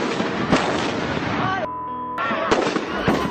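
Loud festival firework explosions crackle and boom in dense rapid bursts, with a short gap carrying a sustained tone before the blasts resume, and voices faintly under the noise.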